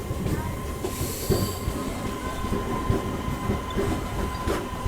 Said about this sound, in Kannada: ಇದು ನಮ್ಮ ಟ್ರೈನ್ ತಲುಪಿದೆ ಮಲ್ಲಾಪುರ ರೈಲ್ವೆ ಸ್ಟೇಷನ್ಗೆ.